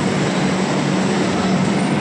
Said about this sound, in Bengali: আমাদের মেট্রো ছেড়ে দিল, এই যে